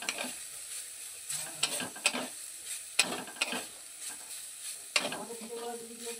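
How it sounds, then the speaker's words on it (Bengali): Grated coconut frying in a kadai for mawa modak filling is stirred with repeated scraping strokes, each sharp scrape standing out over a soft continuous sizzle, close and fairly loud. "নারকেল কোড়াটা প্রথমে আমরা কিছুটা নেড়ে চেড়ে নেব"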